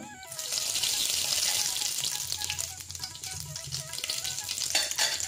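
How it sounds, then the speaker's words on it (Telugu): Oil sizzles steadily in a pan of dry-roasted spices on a low stove, a loud continuous frying hiss with light stirring clatter throughout. "నేను ఇంకా స్టవ్ సిమ్లో పెట్టేసి ఇందులోనే ఒక 2 స్పూన్ల ఆయిల్ అయితే యాడ్ చేస్తున్నాను."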